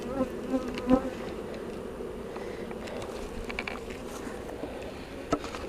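Honey bees drone in a close, steady buzz around an opened hive during a hive split, with a few faint knocks and taps.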